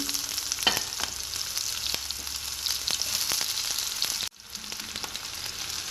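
Onion and garlic fry in hot oil in a pan for a lentil rasam dish, a steady bright sizzle with scattered crackles and pops, briefly cut off and resuming, no talking.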